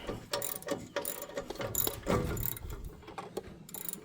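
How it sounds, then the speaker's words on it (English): A ratchet tightens a 3/4 inch bolt on a John Deere model B grain drill, close-up bursts of rapid metallic clicking in short strokes with brief pauses between them. "Get our ratchet out and screw it back in."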